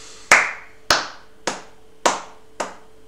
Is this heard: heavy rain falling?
no